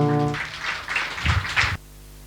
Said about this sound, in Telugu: గట్టిగా చప్పట్లు కొడుతూ ప్రభువుని స్తుతిద్దాం